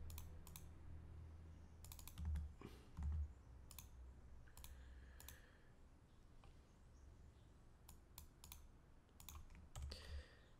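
Typing on a computer keyboard, quiet clusters of key clicks in short bursts with pauses between, entering a number in a math program, heard alone at low level with faint background hiss.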